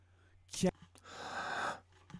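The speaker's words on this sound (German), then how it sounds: "Hier auch wieder hört ihr den Atmer." An audible intake of breath in a vocal recording, a soft airy inhale of about half a second between phrases, close to the mic.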